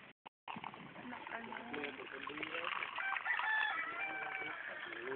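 A rooster crows at a busy outdoor meal over a background of people talking, the call rising and stretching out across several seconds.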